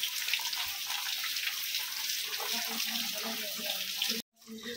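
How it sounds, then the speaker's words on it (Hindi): Steady rain pouring down in a village, a dense broadband hiss of falling water with a few scattered drips, continuous and fairly close, then cutting off abruptly near the end. "देख इधर पानी पड़ते हो सुबह से।"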